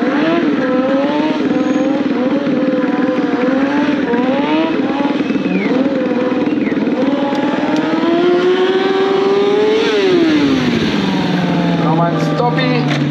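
Kawasaki stunt motorcycle with stuntman Axel Winterhoff doing power donuts on a concrete slab at an event in Speyer, its engine held at high revs with rising and falling pitch sweeps, loud and close, under an announcer's continuous commentary.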